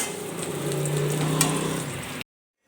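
Onion roasting in a pan over a low gas flame while making Maharashtrian kala masala: a steady soft sizzle and crackle with a faint stirring scrape, cutting off abruptly into silence.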